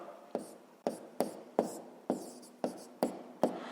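Pen or pencil scratching out numbers by hand on paper, a series of about eight short strokes in an uneven rhythm, close and quiet, with no talking.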